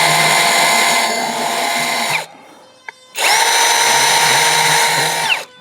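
YUANSEN cordless drill in drilling mode on first speed, whining loudly for about two seconds, pausing briefly with a small click, then spinning up again for another two seconds close to the microphone.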